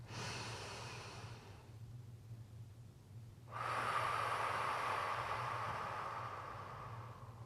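During a pilates session, a person takes a deep breath close to the microphone: a long exhale, a brief pause, then a strong, hissing inhale that gradually fades.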